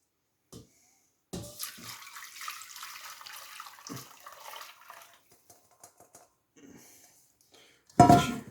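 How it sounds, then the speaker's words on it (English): Strained chicken soup broth pours through a sieve into a clean saucepan, a steady close splash of liquid lasting several seconds, then a few small clinks and a louder knock of pot or utensil at the end. "we'll pour it through the sieve into a clean saucepan"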